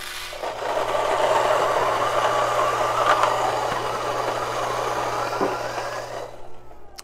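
Fellow Ode Gen 2 coffee grinder motor running through a single dose of beans, a steady, loud, gritty whir that holds for about six seconds and then stops abruptly.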